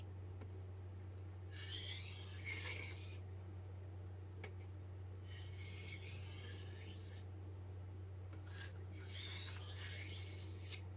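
A Farberware chef knife stroked lightly across a soft Arkansas stone, giving three separate bursts of steady, dry rasping at close range, with quiet pauses between them and a low electrical hum underneath.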